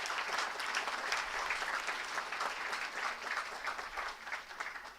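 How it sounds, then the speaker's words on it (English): Sustained applause from an audience at a moot court competition prize distribution ceremony, steady dense clapping filling the room for several seconds, moderately loud and without speech. "A big applaud for him."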